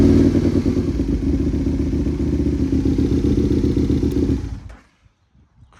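A 2010 Aprilia Tuono 1000cc motorcycle engine runs with a loud, deep, lumpy idle close by, then cuts off abruptly into near silence.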